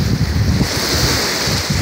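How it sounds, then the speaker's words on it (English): Ocean waves break along the shore close by on a coastal walk, a loud surging wash of surf with rough wind noise buffeting the microphone, and no voices. "the waves are coming up close"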